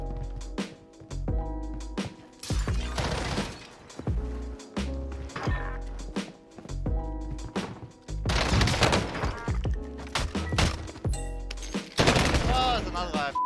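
Repeated bursts of automatic gunfire in the Call of Duty Warzone video game, loud volleys of shots in clusters with short gaps, over a steady game backdrop and a low voice.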